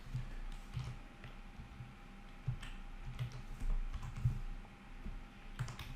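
A password is typed on a computer keyboard: faint, irregular key clicks and taps in short bursts over a quiet room hum.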